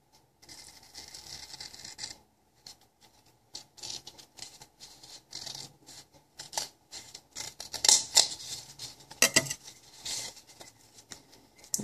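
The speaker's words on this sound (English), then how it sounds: "Get your scissors, or a stain knife." Scissors cut through cardboard to make a tunnel face, giving a run of close, crisp snipping and scraping strokes in irregular bursts with short pauses, and no talking.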